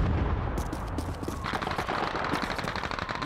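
Rapid gunfire from a German sniper position in the Call of Duty 2 World War II game, a dense crackle of repeated shots over steady battle noise, loud and continuous throughout.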